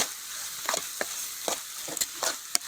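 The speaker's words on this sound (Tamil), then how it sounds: "இதில் போட்டு அப்படியே வதக்க வேண்டியதான்" Gongura (sorrel) leaves sautéing in a pan, a soft sizzle under a series of quick spatula scrapes and taps at irregular intervals, close and alone.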